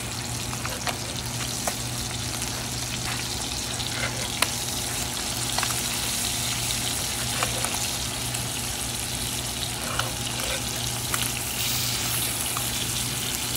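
A striped bass fillet sears in a hot skillet just after being flipped, giving a steady, close sizzle and crackle that runs evenly throughout with a few sharper pops, and no talking.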